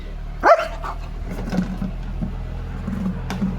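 A dog lets out one sharp bark near the start, then only faint rustles and a low steady hum follow.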